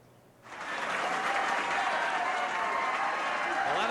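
Crowd at a 1988 professional bowling tournament in Austin, Texas breaks into loud applause and cheering that starts abruptly and holds steady, a dense wash of clapping with voices mixed in.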